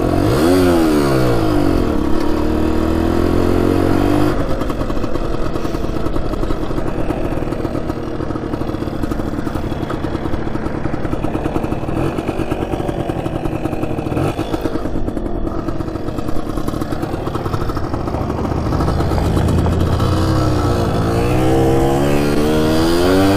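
An abandoned Suzuki RV90 motorcycle that sat for years, now with a slightly slipping clutch, runs loud and close with a steady rattling idle and repeated rising revs.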